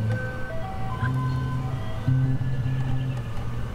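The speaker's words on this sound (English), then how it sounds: "Here comes the ice cream truck." An ice cream truck plays its tinny, looping jingle melody nearby, a steady sequence of bright notes over a low droning hum, continuous for several seconds.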